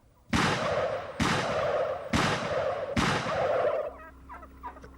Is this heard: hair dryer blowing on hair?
no